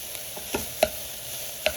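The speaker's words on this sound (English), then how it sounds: "So I just added the kale. I'm gonna add my sauce." Kale and sauce stirred in an Instant Pot for plant-based bolognese, a soft steady sizzle under a few sharp scraping clicks of the spoon against the pot.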